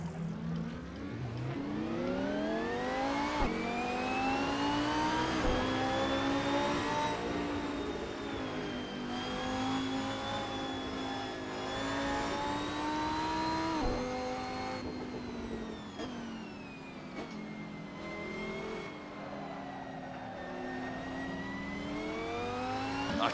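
A racing car engine in Assetto Corsa on PS4 drones and whines steadily, rising and falling in pitch through gear changes as it accelerates and eases off, loud and close with no voices.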